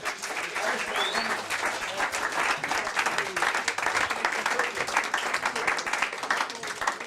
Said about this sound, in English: Come have a round of applause for that.